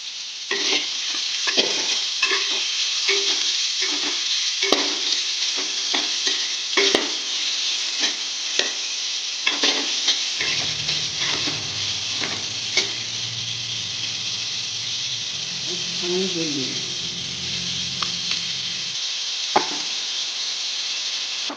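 Three sliced, lightly salted onions sizzle steadily in a pan for a fish biryani, with scraping stir strokes and clinks throughout and a low hum entering partway; no one speaks.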